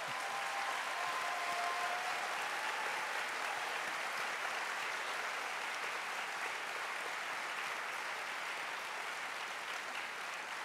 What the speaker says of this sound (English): It is worth applauding their service.